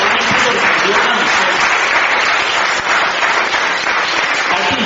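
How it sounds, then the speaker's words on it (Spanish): Loud, dense audience applause at a talk on celibacy, continuous clapping from a sizeable crowd that fills the whole moment at steady volume, with a little speech mixed in. "regálense un aplauso para ustedes"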